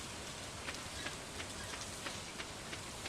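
Rain falling in Stardew Valley, a soft, even patter with faint periodic taps, steady and moderately quiet with no one speaking.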